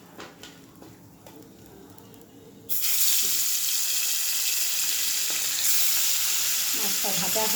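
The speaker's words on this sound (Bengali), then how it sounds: "এবার আমি তেলটা দিয়ে দিলাম, মাছটা ভেজে নেব।" Oil in a hot wok bursts into a loud, steady sizzle of frying fish, starting suddenly and continuing unbroken, with faint clatter beforehand and a voice speaking briefly near the end.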